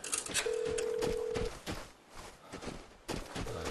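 A telephone rings in the video game Vigor as a single steady electronic tone lasting about a second, heard among footsteps and game noise.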